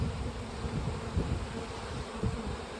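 A honey bee swarm at a hive makes a dense, continuous buzz of many wings, loud and close, with no speech.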